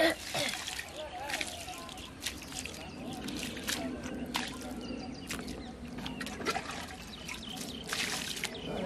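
Water trickles and splashes as it is poured, a steady close dribble with intermittent clattering bursts, while people talk quietly in the background.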